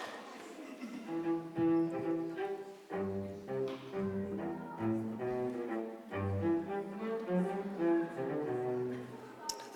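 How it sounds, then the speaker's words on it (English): A cello plays at a school symphony outreach concert, a sustained, resonant melodic line with the orchestra softly underneath, steady and moderately distant. "let's take a listen to the cello next."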